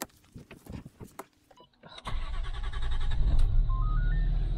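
A rebuilt van engine starting for the first time after a full rebuild: a few clicks and a brief whir, then the engine catches and settles into a steady, loud idle rumble that continues.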